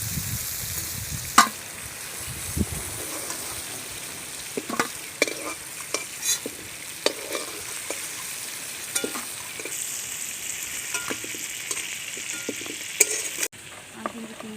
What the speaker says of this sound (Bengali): চিংড়িটা আমি হালকা লাল লাল করে ভেজে নেব।